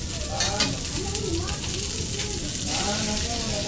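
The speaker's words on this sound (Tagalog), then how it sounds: "Kailangan igisa natin kasama yung tomato paste" Green chili sizzling with tomato paste in a hot pan, a steady close frying hiss with light stirring, while a voice talks over it.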